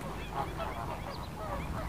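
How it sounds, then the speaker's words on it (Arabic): Flamingos and ducks call at a wetland in Ouargla, Algeria, in a busy overlapping chorus of honking and nasal cries at moderate distance, continuous throughout. "وهذه كاين البط وكاين الفلامينغو"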